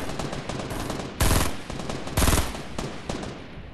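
Close, loud gunfire in Fortnite, with a steady stream of rapid shots punctuated by two heavier bursts, all without speech.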